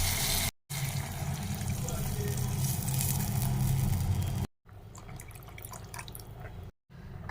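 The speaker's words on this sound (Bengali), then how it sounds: "মশলাটা কষে রেডি হয়ে গেছে। এবার দিয়ে দেবো জল।" Water pours into fried fish curry masala in a pan for pabda fish, a steady close splashing rush that stops abruptly, then gives way to quieter bubbling and light clatter after brief gaps.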